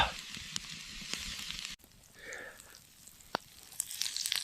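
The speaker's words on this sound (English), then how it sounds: "Let's cook these beautiful venison steaks." Venison steaks sear in a hot cast iron pan, giving a faint, crackly sizzle with scattered sharp pops. The sound dips partway through and then continues more quietly, with a few louder spits toward the end.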